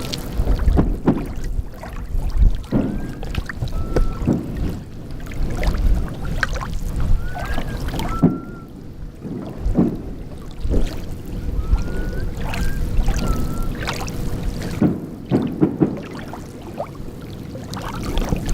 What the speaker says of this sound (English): The water calmly washing onto the shore, mixed in with the background of fireworks and boat motors.